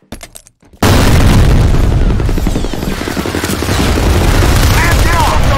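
A grenade goes off during online F.E.A.R. Combat multiplayer. A sudden, loud, booming blast cuts in after a brief quiet start, then rolls on as a dense, roaring rumble mixed with gunfire-like crackle until the end.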